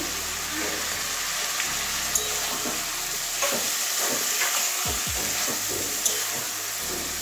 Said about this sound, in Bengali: মশলাটা কষানো হয়ে গেছে, এবারে চিকেনটা দিয়ে দিচ্ছি।